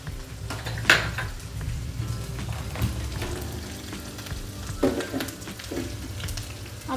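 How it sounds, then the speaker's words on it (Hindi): Sabudana khichdi tempering fries in hot oil in a pan, giving a steady sizzle with metal utensils clanking and scraping against the pot at close range. "आप देख सकते हैं इसको मैं फ्राई कर रही हूँ"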